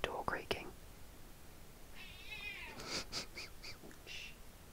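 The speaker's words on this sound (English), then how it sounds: "My cat's just walked in. Apologies if you can hear her, she sounds like a door creaking." A house cat meows softly a few times, its creaky, door-like calls rising in the middle and end, over faint whispering and light tapping in a quiet room.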